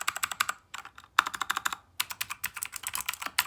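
Rapid clicky typing on a white RK61 60% keyboard with Cherry MX Blue switches, close and crisp, in quick bursts of keystrokes separated by short pauses.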